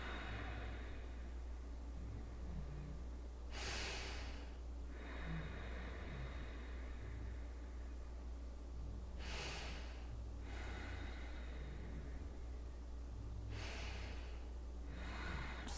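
Slow breaths drawn in and let out by a yoga practitioner holding a stretch, three soft airy breaths spread apart over a steady low hum, quiet and close with no talking.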